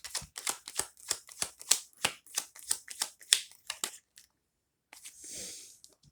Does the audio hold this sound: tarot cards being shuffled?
yes